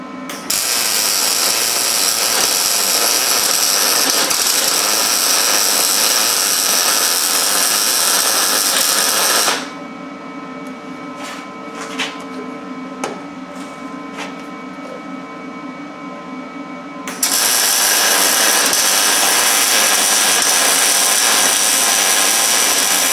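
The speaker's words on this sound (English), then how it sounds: "I'm going to go ahead and burn it in out here, and then I'll also tie it into the frame" Welding a D-ring mount onto a truck bumper and frame, a loud continuous crackling hiss that pauses midway for a quieter stretch of clicks and clanks, then resumes at full strength.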